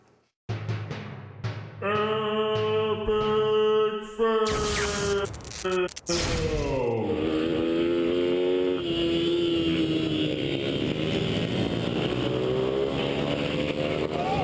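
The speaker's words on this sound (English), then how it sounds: "Mini bike racing can be a competitive sport." Mini bikes racing, their small engines buzzing loud and close with rising and falling revs, punctuated by a few sharp bursts and clatters before the whine settles into a steady high drone.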